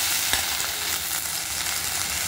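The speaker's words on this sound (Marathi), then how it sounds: "आता मी भेंडी खरपूस भाजल्यानंतर काढून ठेवेन।" Okra frying crisp in a pan, a steady dense sizzle with light crackle holding level throughout, one brief louder pop near the start, no voices.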